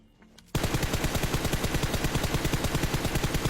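Loud, dense automatic gunfire from a battle royale video game bursts in abruptly after a brief quiet start and pounds on in rapid, rhythmic rattling to the end.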